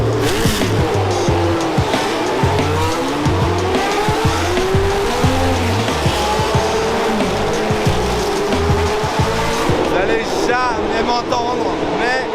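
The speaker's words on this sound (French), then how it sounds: "C'est des voitures qui ont marqué l'histoire du sport, elles font un bruit exceptionnel et ça résonne." Historic race cars roar past at the Monaco circuit, loud layered engine notes echoing and overlapping with shifting revs, tire squeal and rapid pass-bys close at hand, with a voice talking over the noise.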